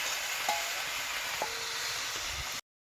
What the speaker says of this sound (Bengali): আমি জল দিয়ে দিচ্ছি একটু, আর একটু জল দেবো।